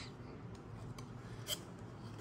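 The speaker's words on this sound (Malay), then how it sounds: "masa saya tengah potong box ni" A blade slices and scrapes through the cardboard of a Blokees Transformers toy box, quiet close-up rasping strokes with a sharper cutting snip about midway.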